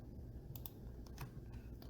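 Someone types on a computer keyboard while working in WordPress: several quick, light key clicks arrive in small irregular bursts over a faint steady background hum, with no talking.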